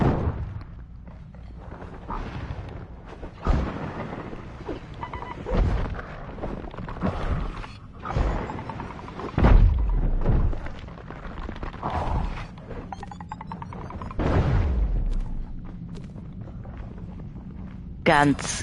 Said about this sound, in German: Ganz wild mit diesen selbstzündenden Kanonen am Rücken.